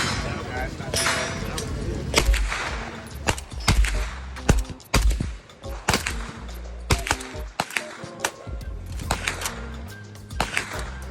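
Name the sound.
suppressed AK rifle gunfire at a shooting range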